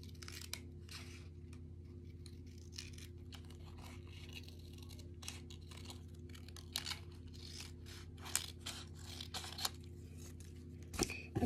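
Scissors cut paper along printed lines, making a run of quiet crisp snips and rustling crinkles close by over a steady low electrical hum, with the cuts growing louder toward the end.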